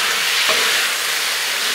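Veggies are stirred together on a hot Blackstone griddle, giving a bright, steady, close sizzle with a brief scrape from mixing, no voices.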